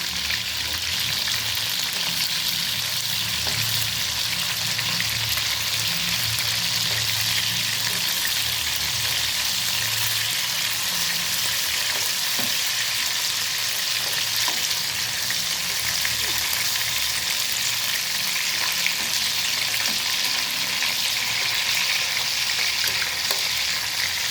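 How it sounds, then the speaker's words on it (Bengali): Steady, dense sizzle of leafy greens frying in a pan, continuous and close, with occasional stirring scrapes and faint background voices. "শাক থেকে এক পাশ ভাজা হয়ে গিয়েছে"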